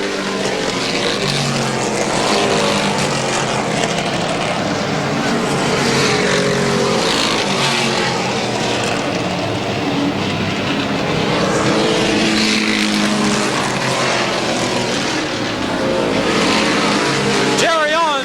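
Stock race cars roar around Lorain County Speedway in 1987, a loud continuous engine drone rising and falling as cars circle, with a race announcer talking over the noise throughout.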